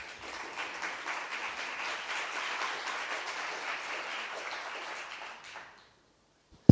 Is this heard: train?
no